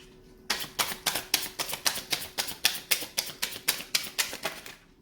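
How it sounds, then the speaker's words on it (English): Tarot cards are shuffled for a collective reading in a steady run of about a dozen crisp, evenly spaced riffling bursts, close and loud, with no voice. "one last shuffle for the collective"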